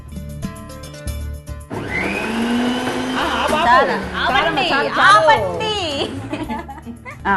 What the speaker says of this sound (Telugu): వీటిని మనం ఇప్పుడు మిక్సీ పట్టుకుంటాం